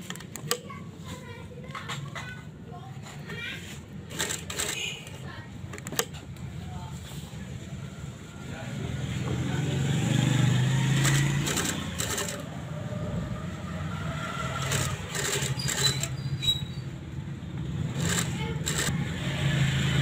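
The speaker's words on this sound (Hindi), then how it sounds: "आपने स्लो चलानी मशीन ताकि गुलाई आपकी ख़राब ना हो जाए" Sewing machine run slowly while stitching a front pocket onto a garment at a tailor's, a steady mechanical whirring hum that builds midway, with intermittent clicks and handling noises and occasional talk alongside.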